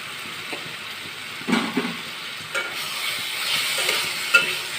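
Fried potatoes sizzle in a pan of spices for a Bengali fish curry, a steady hiss with a few scraping stirs and clinks of a spatula, close and moderately loud with no talking.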